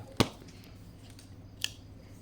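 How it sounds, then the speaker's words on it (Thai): A premium OEM axis lock folding knife, 7 inches long with a 3 mm spine, has its blade folded closed: one crisp close click, then a fainter second click in a quiet room. "จะพับกลับต้องเอากดตัวนี้ลงนะครับผม นี่จะพับกลับได้"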